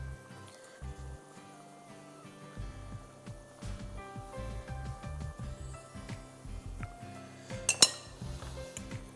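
A utensil clinks against a bowl while chocolate cookie brownie batter is mixed: soft, irregular taps and scrapes close by, with a sharper clatter near the end.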